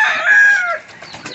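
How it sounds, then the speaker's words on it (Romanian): A young farm rooster crows in one drawn-out, loud, close call that fades after under a second, leaving faint rustling. "Îl avem pe aici, pe cocoșul ăsta tânăr, care nu-i plac găinile, îi plac rațele."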